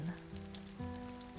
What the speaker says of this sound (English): As strong as the rainpour was, the sound was just as loud.